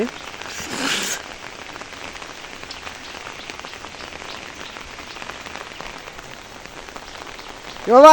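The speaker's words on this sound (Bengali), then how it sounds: "বৃষ্টি হবেই প্রতিদিন বৃষ্টি হচ্ছে" Rain falling steadily on surfaces, a loud dense patter that runs the whole time, with a brief louder burst near the start and a sharp noise at the very end.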